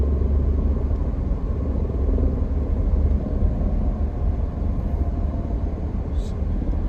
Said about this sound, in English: I think it was a helicopter.